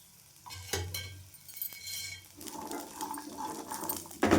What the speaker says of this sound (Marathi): याच्यामध्ये आपल्याला वाटाण्याचे दाणे भाजून घ्यायचे.